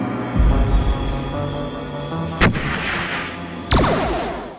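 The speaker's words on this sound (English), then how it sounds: "Kirk and Spock then fire off a massive mortar, neutralizing the enemy for now." Massive mortar firing as a 1960s Star Trek original series sound effect: a sustained low roaring rumble broken by two sharp loud blasts, one midway and one near the end, with no voices.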